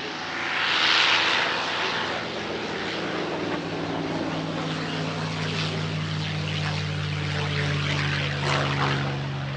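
A vintage warbird propeller plane at an airshow drones steadily and loudly throughout, its engine roar holding a constant pitch as the aircraft passes.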